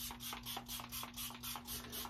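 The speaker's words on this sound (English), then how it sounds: "So I just spray whatever I want." A handheld spray bottle misted over clothes gives a quick series of soft, rhythmic hissing spritzes, about eight in a row, faint and close, with a steady electrical hum underneath and no talking.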